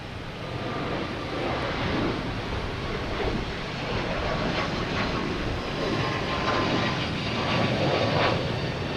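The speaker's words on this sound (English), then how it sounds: "We also got a Delta taking off" A Delta airliner takes off at Boston Logan with a continuous, broad, airy jet roar at moderate distance. It swells slightly toward the end, with no talk over it.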